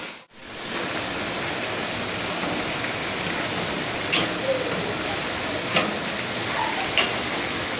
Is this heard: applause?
no